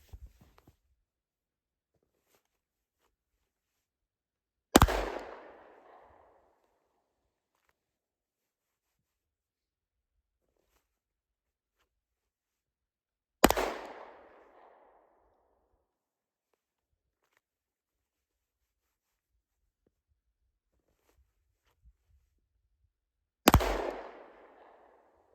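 Three single pistol shots fired from the draw at 15 yards with a Trijicon SRO sight crack out sharply, each separated by long silent pauses and followed by a short fading echo.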